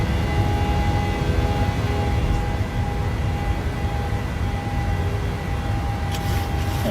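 A PMDG 737-700 departing San Francisco in Microsoft Flight Simulator gives a loud, steady jet roar with a sustained whine, holding constant throughout without speech.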